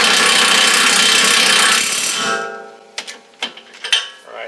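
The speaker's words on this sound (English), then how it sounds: "I'm going to go ahead and set it in with the impact" An impact wrench runs loud and hard for about two seconds setting the wheel bearing nut on a Ford Mustang front hub, then winds down and stops, followed by a few sharp metallic clanks and knocks.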